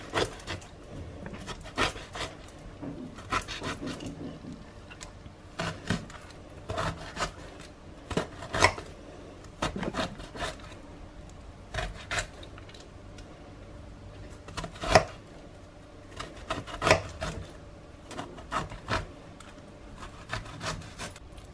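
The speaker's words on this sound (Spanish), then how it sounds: "Ahora le voy a hacer unos cortes a toda la berenjena en forma de cuadradito, la vamos cortando así" Knife scoring crosshatch cuts into a halved eggplant on a board, quiet scraping and rubbing strokes in irregular bursts, close and soft.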